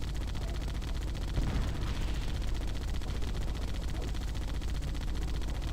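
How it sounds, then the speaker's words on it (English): A mounted turret fires in Halo CE, a steady fast stream of rounds with no pause that stays loud and even from start to end. "Now we get on the turret."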